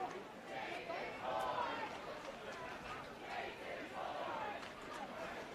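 Cheering from the St. Ignatius side at a varsity boys lacrosse game against Torrey Pines, heard as a far-off crowd roar with chatter that rises and falls at a steady level.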